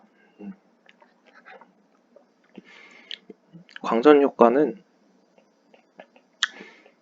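Wet lip smacks and mouth clicks from a man teaching a physics lesson, scattered as short, close, soft ticks between and around his speech.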